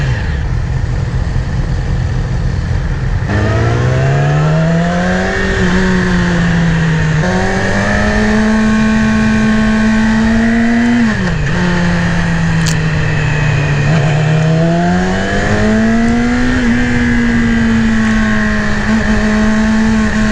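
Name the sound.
2018 Yamaha YZF R6 motorcycle engine revving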